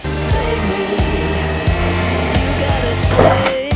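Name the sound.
power drill drilling holes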